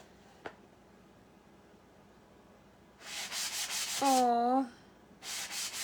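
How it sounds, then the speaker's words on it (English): A wooden piece gets a quick hand sanding before painting: two bursts of close, scratchy rubbing strokes, with a short tonal vocal sound between them and a single faint tap earlier. "I'm just going to give this a quick sanding real quick"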